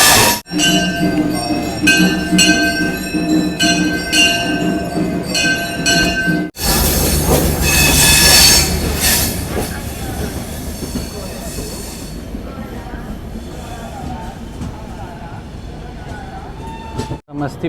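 The 12203 Saharsa–Amritsar Garib Rath Express runs steadily, its wheels rumbling and clattering loudly along the track with a rhythmic clickety-clack and occasional squeal, heard from on board with a voice talking over it.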